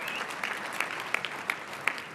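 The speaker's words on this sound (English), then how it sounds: "you can give her a round of applause for all of that" Applause from guests at a women's bar association installation event in Illinois, a steady, moderately quiet patter of many hands with a few sharper claps standing out.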